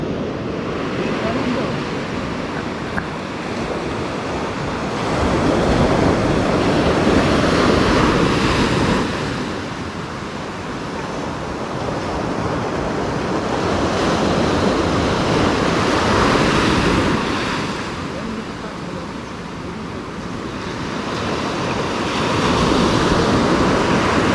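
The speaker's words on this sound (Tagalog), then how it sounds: "natabunan pa ng alon" Ocean surf rolls in and breaks on the shore in slow, repeating swells, with loud washes of water rising and falling under gusts of wind buffeting the microphone.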